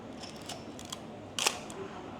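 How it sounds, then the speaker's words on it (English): A Canon film camera's copper shutter fires once, a single crisp, quiet click against near silence. "And this is a unique copper shutter."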